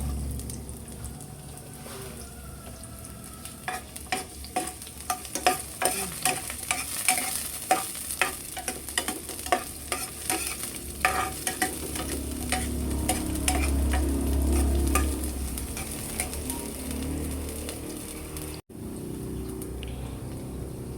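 Garlic and onion sauté in a pan for adobo, a steady sizzle under rapid, repeated spatula clacks and scrapes for about twelve seconds, then a softer bubbling simmer and a brief dropout near the end, close and without speech.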